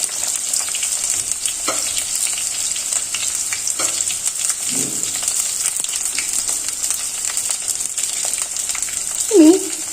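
A chopped big onion frying in a pan with curry leaves, a steady loud sizzle throughout with occasional stirring scrapes and a brief voice near the end.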